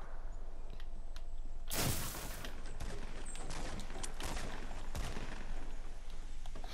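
Gunshots in Fortnite, a sharp blast followed by a stretch of faint, scattered shots and crackling under steady background noise, with no talk.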